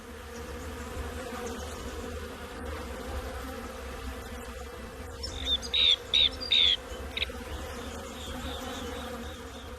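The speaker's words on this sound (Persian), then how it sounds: "در حالی که زنبورها شهد گل را در کیسه های خود جمع می کنند" Wild honey bees buzz steadily while gathering nectar from flowers, a low continuous hum with a few closer, louder passes flying near, set over a quiet outdoor background.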